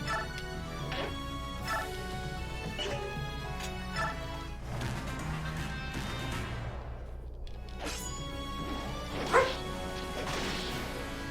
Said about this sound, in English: My dog is piping in.